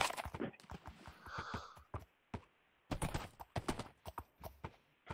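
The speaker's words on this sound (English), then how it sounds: "Oh, my donkey." Donkey hooves clip-clop in Minecraft VR, a run of crisp, close, rapid taps in uneven bursts with short pauses, alone without talk.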